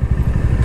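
A Bajaj Dominar 400 motorcycle from 2023, just serviced with a new air filter, runs its engine in a loud, close, throbbing burst with a rapid pulsing beat, brief and without talk.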